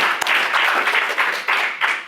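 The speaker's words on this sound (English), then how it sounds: "we'll give one more round of applause" Applause ripples through a community repair conference audience, a close, brisk clatter of clapping hands swelling in a few uneven bursts before tapering off.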